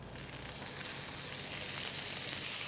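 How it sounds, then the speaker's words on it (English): Strips of bacon fry in a hot, ungreased pan, giving a quiet, even sizzle and hiss that holds steady throughout with no voices. "To fry my bacon, I need to put my pan on heat"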